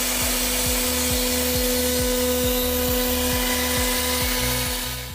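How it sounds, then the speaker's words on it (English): A CNC milling machine carving wood, a loud steady whirring drone with a strong motor hum and a rapid regular low ticking pulse throughout, fading slightly at the end. "CNC milling machines are used to machine flat surfaces or 3D parts by removing material from a"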